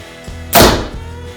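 An Elite Envision compound bow is shot once in a backyard, giving a single sharp thump with a short buzzing decay at close range over faint background hum.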